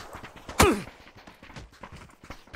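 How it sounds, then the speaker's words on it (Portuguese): A single sharp shotgun blast rings out in the PUBG video game, a loud, abrupt crack that quickly fades into low background game noise. "o cara me deu tiro de escopeta"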